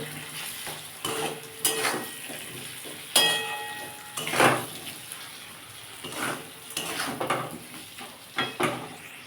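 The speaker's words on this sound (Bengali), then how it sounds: "পরিমাণ মতো নুন দিয়ে দেবো দিয়ে বন্ধুরা এটাকে ভালো করে কষতে হবে" Masala is sautéed in a pan for a cabbage and red lentil curry. Intermittent stirring scrapes and clinks come in bursts over a soft, low sizzle.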